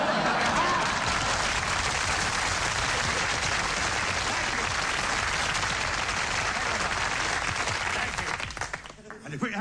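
Thunderous audience applause at a comedy stage show, a dense, loud wash of clapping from a large crowd sustained for several seconds before tailing off at the end.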